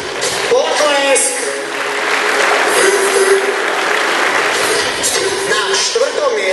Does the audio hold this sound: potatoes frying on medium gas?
no